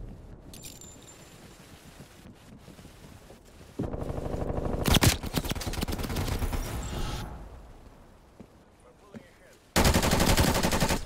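The LAPA submachine gun in the video game Black Ops Cold War fires in loud, rapid automatic bursts, with several sustained sprays separated by quieter gaps of game noise.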